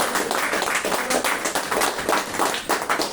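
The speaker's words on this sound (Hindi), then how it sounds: "तो एक बार मैनेजमेंट के लिए जोरदार धमाकेदार तालियां।" Loud, dense applause fills a hall as an audience at a direct-selling business gathering claps vigorously for the management, continuous and close throughout.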